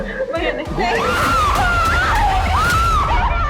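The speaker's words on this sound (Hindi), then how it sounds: "बैंक के अंदर से लड़की के चिल्लाने की आवाज आ रही है" A girl screaming inside a bank: a loud, sustained, wavering high scream that continues for several seconds over a noisy, busy background.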